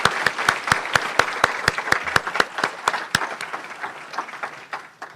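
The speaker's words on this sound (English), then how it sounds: "So let's give them a round of applause for their work" Applause from a club audience for outgoing team leaders at a changing-of-the-guard program, a steady wash of many hands clapping with sharp individual claps standing out, fairly close and full, tapering slightly toward the end.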